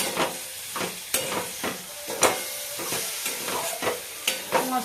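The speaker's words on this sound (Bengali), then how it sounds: "এগুলো দিয়ে আমি 2 থেকে 3 মিনিট একটু নাড়াচাড়া করে নেব।" Pitha filling with coriander leaves stirred in a hot pan, a spoon scraping in steady repeated strokes over a soft sizzle, close and fairly loud, with no talking.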